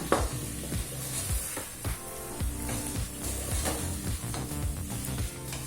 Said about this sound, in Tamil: இப்போ சிக்கனை நல்லா வதக்கிக்கலாம்.